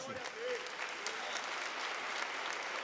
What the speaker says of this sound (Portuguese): Vamos aplaudir Jesus mais forte.